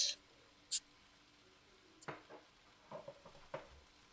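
Sauces splash into veg chowmein stir-frying in a hot pan: a soft sizzle under scattered stirring clatters and a couple of sharp metallic clinks, fairly quiet and close.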